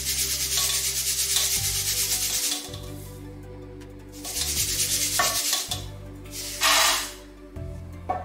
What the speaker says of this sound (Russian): Поэтому обжаренные кусочки я еще просеиваю через сито.